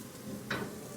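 Garlic and onions stir-frying in a pan for crispy fried noodles give a faint, steady sizzle with one brief louder hiss halfway through.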